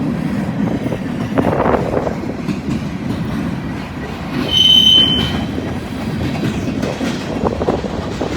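A Buckeye freight train rolls past nearby on a windy day, a continuous heavy rumble of cars with a short, high wheel squeal partway through and no voices.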